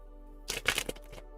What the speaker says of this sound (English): I'm going to shuffle them cards again.